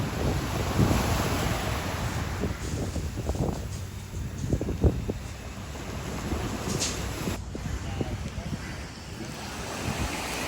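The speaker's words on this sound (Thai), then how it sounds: "คลื่น คลื่นลมแรงค่ะพี่น้อง" Strong surf breaks at Rawai beach in Phuket while wind rumbles against the microphone. The roar of the waves is continuous and rises and falls over the whole stretch.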